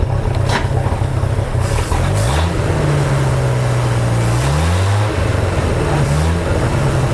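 Bayliner 195 boat engine idling loudly up close, with the pitch stepping up and down as it is shifted between gears, a steady rough drone throughout.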